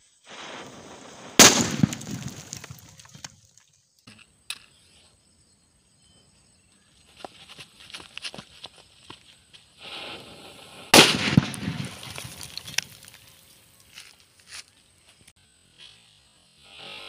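Two powerful blasts from an atom bomb firecracker buried in a dirt pit during Diwali, each a sharp loud bang trailing into crackling and settling debris, with quiet gaps and scattered smaller pops between.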